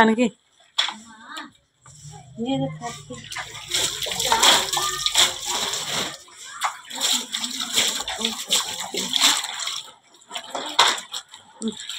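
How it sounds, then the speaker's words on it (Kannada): Water from a pipe splashes and sloshes into a bucket, a steady rushing spill that runs for most of the stretch with small breaks, with voices heard around it. "ಪೈಪ್ ತೆಗೆದ ನೀರು ಭಾಳ ಕಡೆ ಬಿದ್ದ"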